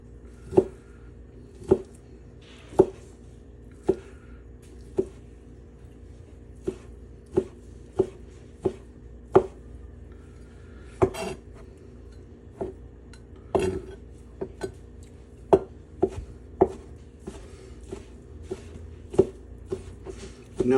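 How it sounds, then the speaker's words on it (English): A knife chops beef roughly for steak tartare on a board, striking in a steady run of sharp, distinct knocks about once a second, growing denser and more irregular toward the end, with no voices. "Now I'm just doing a rough chop."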